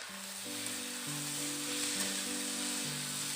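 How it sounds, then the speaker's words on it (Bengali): Pasta with spices sizzles steadily in a pan as it is stirred, a constant frying hiss under faint background music. "এবার আমি ভালো করে আবারও নাড়ি চাড়িয়ে নিচ্ছি"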